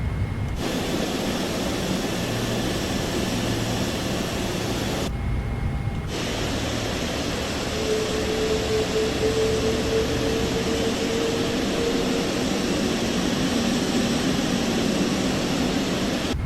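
A steady Rolls-Royce jet engine whir at idle on a simulated Boeing 777 in Microsoft Flight Simulator, a broad constant roar with a faint tonal hum rising and falling, briefly cutting out twice.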